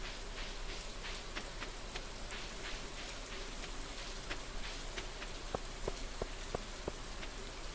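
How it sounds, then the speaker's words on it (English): Gentle rainfall in Stardew Valley keeps up a constant hiss of drops on the ground, with scattered brighter droplet plinks, faint and calm, no one talking. "even when it's raining, it still sounds really nice and peaceful."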